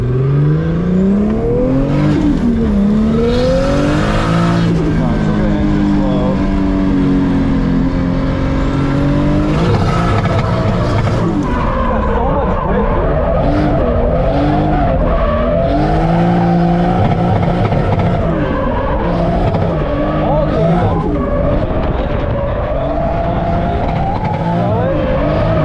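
A car pushed hard through track corners, engine revving loud and close with shifting pitch and bursts of squealing tires across a long continuous run.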